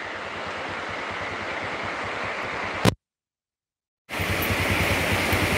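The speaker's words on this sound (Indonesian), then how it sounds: "Ini suara hujan ya, Bos." Steady, dense hiss of heavy rain drumming on a galvalume metal roof, broken by a brief moment of total silence before the rain noise resumes.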